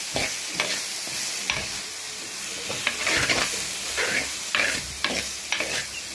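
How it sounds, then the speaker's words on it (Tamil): Sago and chayote sizzle softly in a pan of ghee while a spoon stirs and scrapes in repeated strokes, with no talking. "ஜவ்வரிசியும் சவுச்சவ்வியும் போட்டு ஒரு வதக்கு வதக்கிக்கணும்"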